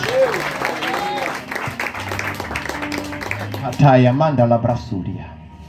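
Applause for Jesus from a church congregation during a Sunday service, a crowd clapping under a preacher's loud, sung and spoken voice.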